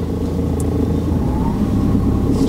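A car accelerating on the road during a driving lesson, a steady low engine rumble that holds at a constant level with no voices over it.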